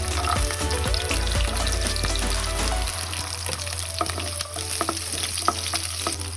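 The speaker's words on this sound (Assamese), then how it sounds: "নহৰুকেইটা পেলাই দিলোঁ।" Garlic cloves sizzle and spit in hot mustard oil in an iron wok for a khar dish, with a steady close crackle and occasional scraping taps of stirring.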